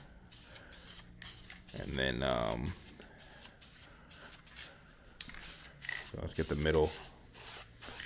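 Spray paint hisses in short bursts onto a valve cover being given a wrinkle finish, with someone talking over and between the sprays.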